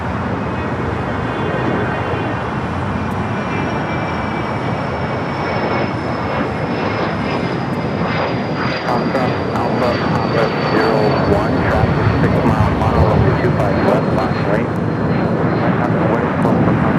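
A KLM airliner, flight 602, takes off at LAX with a loud, sustained jet roar and a steady whine, heard continuously at a moderate distance while people talk over it.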